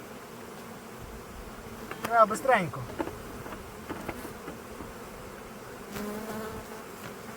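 Honeybees buzz close by in a dense, steady drone at a hive pollen trap, with a sharper whining burst as some fly near, and a brief spoken remark.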